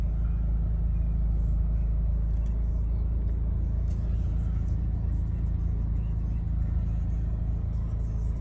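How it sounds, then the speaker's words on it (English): A 2013 Audi TT Quattro with about 62,000 miles runs at a steady, low idle, a constant close rumble without talk. "I'll just find the key and start the vehicle."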